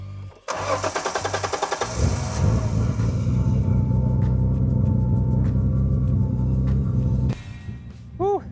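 A Nissan R31 Skyline fitted with a new battery cranks with a rapid, rhythmic starter chatter, catches and settles into a steady, loud, rumbling idle. The engine cuts off near the end.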